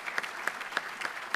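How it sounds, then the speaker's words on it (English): Audience at an ethics essay award dinner applauding the event organizers, a brief, fairly faint stretch of scattered clapping from the room with a few sharper individual claps standing out. "I would like to give them a round of applause as well."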